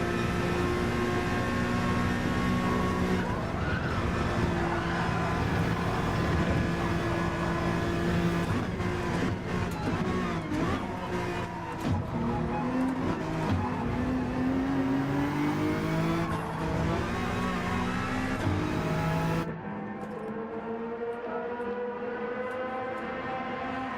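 A Honda NSX race car in Gran Turismo 7 at Yas Marina screams at high revs with its pitch rising and falling through the gears, loud and continuous, then cutting to a lower, duller drone near the end.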